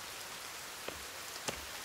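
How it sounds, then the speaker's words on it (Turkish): Steady rain falls in the survival video game The Forest as a soft, continuous hiss, with a couple of faint drip-like ticks and no talking. "Oo, yağmur yağıyor."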